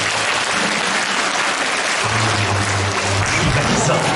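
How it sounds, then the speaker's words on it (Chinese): Concert audience applauding steadily for a band of musicians at a Taiwanese singer's live show, dense continuous clapping throughout with a low hum from the stage joining partway through. "我们是不是给他们个掌声？"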